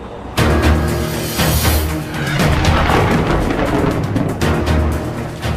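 Thunderstorm sound effect on a cable news show: an abrupt, loud rolling thunder crash that keeps rumbling and booming for several seconds, with no voices.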